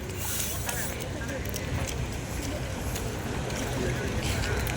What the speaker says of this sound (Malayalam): സാധാ ബോട്ടാണ് വരുന്നത്.